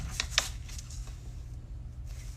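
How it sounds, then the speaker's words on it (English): A paper trimmer slices a layer of cardstock to a 3 3/4-inch width during a card-making session, with a few quick, crisp strokes followed by soft sliding and handling noises, heard close and alone. "Okay, so I'm going to cut this 3 3/4 width."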